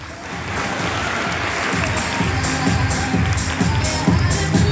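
Crowd applause at a 2023 sports awards ceremony at Espace Montrichard, France, a broad, continuous clapping that builds slightly, with faint cheering and a low rhythmic thumping underneath.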